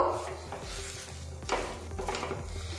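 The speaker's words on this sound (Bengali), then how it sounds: "স্প্যাচুলার দিয়ে অনবরত এইভাবে ম্যাশ করে নিতে হবে" A spatula mashes and stirs a carrot and milk powder filling in a pan, making soft, repeated scraping and rubbing strokes, fairly quiet and close.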